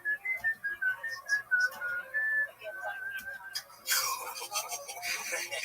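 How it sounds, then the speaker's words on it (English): A person whistles a wavering, eerie tune close by, the pitch sliding up and down over soft background voices, before a burst of broadband noise and chatter takes over near the end. "It's a haunting whistle."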